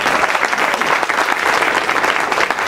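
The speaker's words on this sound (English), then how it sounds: "Let's give them a round of applause." Loud, dense applause from an audience honoring students at a school event, steady crowd clapping close by and unbroken for the whole stretch.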